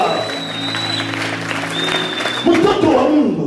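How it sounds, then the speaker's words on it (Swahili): Church congregation gives the Lord a round of applause, with loud, dense clapping carrying along under a preacher's continuing voice and a held musical note that swells near the end. "Patia Bwana makofi mazuri kama unabarikiwa."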